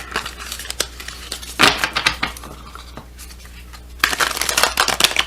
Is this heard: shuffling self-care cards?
yes